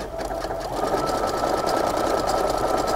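Home sewing machine running a finishing stitch along a pant hem, a fast steady mechanical chatter of needle strokes, close and continuous for the whole stretch with no talk.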